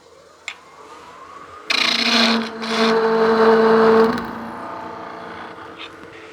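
A wood lathe tool cuts a small nub off a chuck-mounted piece. After a faint tap, a loud, steady rasping hum rises for about two seconds, then eases into a quieter whir of the spinning lathe.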